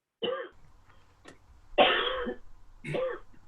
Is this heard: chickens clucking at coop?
no